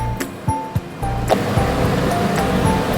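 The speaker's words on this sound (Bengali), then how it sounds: "সেই জন্য আমি দশ কাপ জল দিই" Water is poured into a pan of frying rice for egg pulao, giving a sudden rushing sizzle and bubbling after a few clinks and taps, close and steady to the end.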